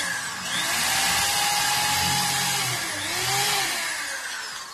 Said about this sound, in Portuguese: E vou furar aqui em quatro lugares para ficar bem seguro